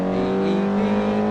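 A 140 brake horsepower Suzuki SX4, a mostly front-wheel-drive car, speeds across the line with a steady, loud engine drone held close by and no voices over it.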